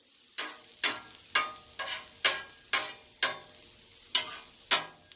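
Onions frying almost to burnt in a pan for smash burgers, with a faint sizzle under about ten crisp, evenly spaced scraping or stirring strokes, close and moderately loud, with no talking.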